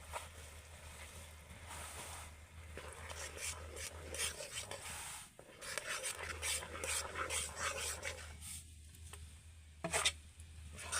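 Semolina mixture is stirred into sugar syrup in a pot, making soft, repeated scraping and rubbing strokes at close range, quiet and fairly rhythmic over a low steady hum.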